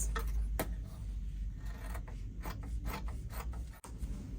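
Scissors snipping and rasping through dress fabric while cutting out a pattern piece, a steady run of close, dry cuts and rubbing with short pauses.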